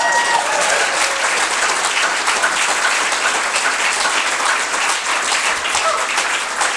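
Sustained, dense audience applause fills the whole stretch at steady loudness, a political crowd clapping for voters in a riding, with no break or lull.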